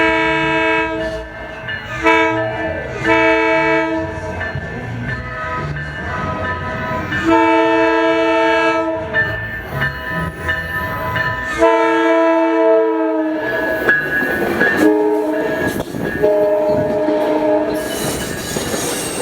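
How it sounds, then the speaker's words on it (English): Southbound Coaster commuter train arriving at Carlsbad Village Station with its cab car leading, sounding loud repeated horn blasts in separate bursts over rumbling wheels that squeal against the rails as it pulls in. "our next train would arrive, this being Coaster 686 with the same set the last coaster had, just heading south"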